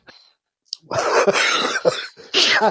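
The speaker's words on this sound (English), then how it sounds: "That can hear me cough." A few harsh, close coughs in quick bursts, separated by short pauses, with a faint breathy sound beforehand.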